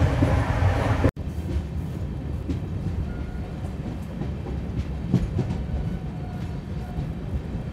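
The Kakinada Port–Bhavnagar superfast express runs at speed on its track near Nadikudi junction, a steady loud rumble from inside with rhythmic clickety-clack of wheels and a sudden brief dropout near the start.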